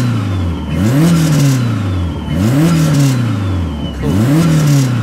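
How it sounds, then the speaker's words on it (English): A Honda Type R project car engine revs hard on the accelerator three times in a row, each burst rising and falling in pitch, loud and close, without speech. "Can you press the accelerator a minute and see what the rev can?"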